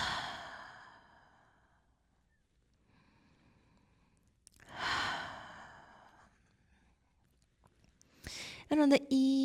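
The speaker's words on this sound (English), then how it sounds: "Take a few breaths." Slow, deep breaths during a yoga pose, with two long audible exhales close to the ear separated by quiet pauses, followed by a brief voice at the end.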